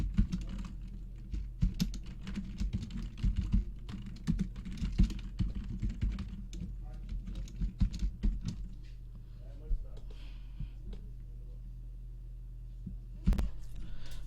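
Code being typed on a computer keyboard in a programming lesson: dense, irregular clicking keystrokes for about eight seconds, then sparse taps and a pause before one final loud keypress, close and clear with no talk.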